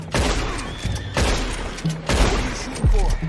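Gunfire in Red Dead Redemption 2 on Xbox One X: four loud, sharp shots spaced about a second apart, each with a booming tail, close up, with brief voices between the blasts.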